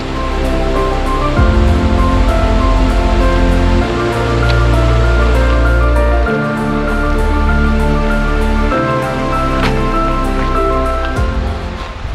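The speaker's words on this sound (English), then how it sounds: "there's a little bit of a waterfall" A steady, loud rush of a small waterfall at the Urungach Lakes, Uzbekistan, pours continuously, dense and close, with no voices over it.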